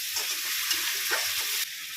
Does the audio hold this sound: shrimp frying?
yes